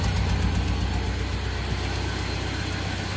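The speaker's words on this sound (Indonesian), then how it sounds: "ini untuk pengecekan awal ya, kita bisa dengarkan di suara knalpotnya" A Toyota car idles with a misfiring engine, its exhaust putting out a steady, loud, uneven low rumble with a rhythmic stumbling pulse heard close up and continuously, with no talking.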